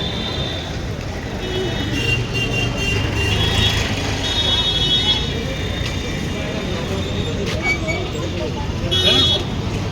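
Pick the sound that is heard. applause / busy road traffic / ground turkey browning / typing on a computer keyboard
busy road traffic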